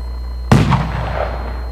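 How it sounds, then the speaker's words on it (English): A single firework bursts in the FWsim fireworks simulator game, a sudden booming crack followed by a crackling, fading tail over a low steady hum. "I'm gonna turn it to red right after the explosion."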